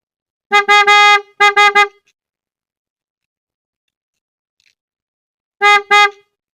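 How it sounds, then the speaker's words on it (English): A newly installed generic aftermarket car horn sounds in three loud, close blasts: two short honks in quick succession, a pause of several seconds, then a final honk, each a bright, harmonically rich tone. "The horn seems a lot louder than the original one"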